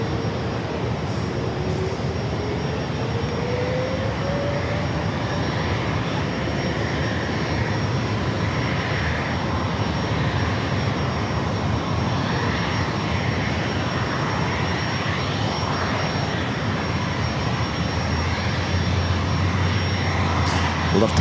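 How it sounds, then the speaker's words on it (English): A Southwest Airlines Boeing 737-700 jet arriving at San Diego airport gives a steady, broad engine roar that stays strong throughout, with a faint rising whine early on and light crowd noise beneath. "Southwest Airlines flight 2786 coming in from Vegas, 737-700"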